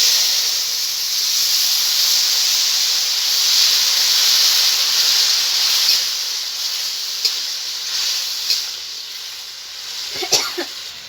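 Ridge gourd pieces and two green chillies tipped into a hot oiled pan: a loud, steady, hissing sizzle that holds for several seconds, with a few light clinks of utensils near the end.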